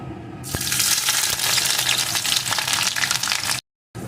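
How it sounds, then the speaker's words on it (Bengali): Chopped onion sizzling in hot mustard oil in a kadai, a loud, steady broadband frying hiss that starts abruptly and continues without a break, then cuts out briefly near the end. "পেঁয়াজ কুচিটা একটু ভেজে নেব"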